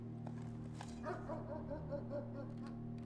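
Dogs barking in the video game Blue Prince, a short run of yips and barks over a steady droning game music bed, moderately close and fairly loud.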